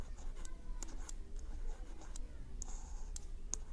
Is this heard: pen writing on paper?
yes